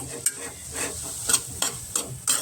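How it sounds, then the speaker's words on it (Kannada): Grated carrots frying in ghee for carrot halwa, with a soft steady sizzle broken by four or five scraping stirs of a spoon across the pan, close up and without speech. "ತುಪ್ಪದಲ್ಲೇ ಈ ಥರ ಹುರ್ಕೊಂಬಿಡಿ"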